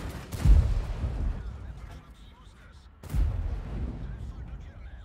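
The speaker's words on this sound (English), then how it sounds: "I'm gonna wait for this ISU to fire." An ISU tank destroyer's gun firing in the World of Tanks game: two heavy booming shots about three seconds apart, each with a long rumbling decay, with a voice talking over them.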